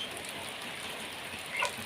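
Rain pours steadily over a rural house yard in the late afternoon, a soft even hiss throughout with one brief brighter patter near the end.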